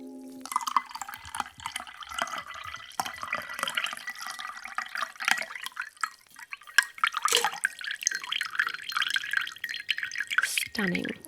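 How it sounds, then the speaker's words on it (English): Whisky smash cocktail poured from a shaker into a chilled glass, a steady trickling and splashing liquid stream lasting several seconds, close and fairly quiet, with a brief clink near the end. "Take a nice chilled glass, since this is a refreshing cocktail, and pour that beautiful drink."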